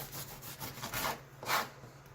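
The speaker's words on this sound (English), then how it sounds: "Let's go ahead and slice off that end piece really quick, get that out of the way." A knife saws through a crusty, spongy loaf of Italian bread, giving a few close rasping strokes that swell into one louder final cut, with no talking.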